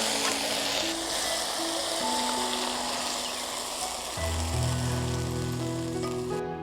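Fish fries in a pan at home, a loud continuous sizzle and crackle that holds close and steady throughout, with some tonal background sound underneath.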